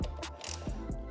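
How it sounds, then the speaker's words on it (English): Ratchet wrench snugging up bolts in a star pattern on a 2022 Harley-Davidson Road Glide, giving a few quick, close clicking pawl bursts with a brief metallic clink. "now I'm just snugging it up in a star pattern"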